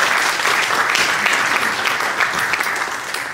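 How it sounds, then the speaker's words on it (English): A crowd claps steadily and loudly for a few seconds, the applause tapering slightly toward the end. "A round of applause for the workshop givers."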